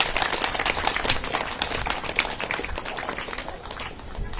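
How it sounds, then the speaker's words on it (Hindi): Broadband crowd clapping at a Guru Purnima devotional gathering, a dense, steady wash of many hands sustained throughout at fairly even loudness. "सद्गुरु के प्रति जोरदार ताली बजाए।"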